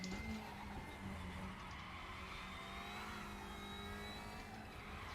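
Engine of an Alfa Romeo Giulietta in a racing video game at Spa, a steady buzzing drone with faint tyre scrub, heard at a constant moderate level without talk.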